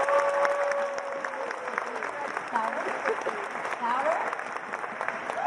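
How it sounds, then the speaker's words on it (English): An audience at a Commonwealth Club event applauds steadily and densely throughout, a close, continuous clatter of many hands with a few voices mixed in. "by the sound of applause, how many Commonwealth Club members are in the audience right now?"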